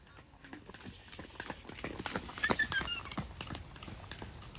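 Hooves of a cantering horse during a light riding lesson, thudding in a steady rhythmic beat on the ground at moderate distance, with faint background noise and no talk.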